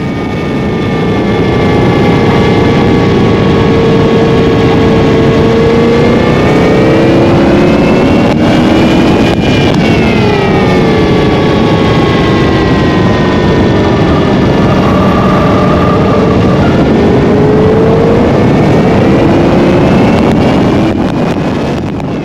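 A car engine holds a steady high-rpm drone while lapping a banked NASCAR oval during a raceway track day, with pitch rising and falling gently through the turns and heavy wind rush over the microphone.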